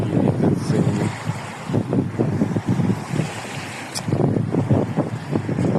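Gusty wind buffets the microphone in low rumbling bursts, with a faint whoosh of outdoor air and water behind it.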